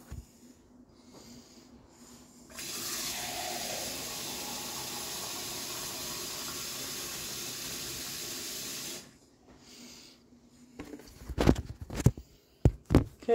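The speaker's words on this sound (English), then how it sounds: "let's get some water now" Water running from a kitchen tap while a caffeine-free supplement drink is prepared, a steady broadband rush lasting several seconds before stopping, followed by a few sharp clinks and knocks.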